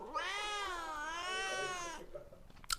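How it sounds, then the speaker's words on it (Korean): A cat gives one long, drawn-out meow lasting about two seconds, close and clear, followed by faint rustling. "지금 앙이 야옹거리니까 안고 방 안에 있는데"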